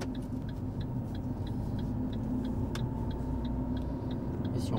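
A Fiat 500 driving with a steady low engine rumble from inside the cabin, a turn-signal indicator ticking in a regular rhythm over it, fairly quiet and continuous.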